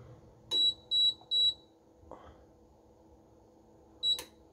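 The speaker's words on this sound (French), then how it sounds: "Donc là vous voyez le bip s'est fait entendre" A kitchen cooking appliance sounds three short, evenly spaced electronic beeps, clear and close, then a fourth beep a few seconds later over quiet room noise.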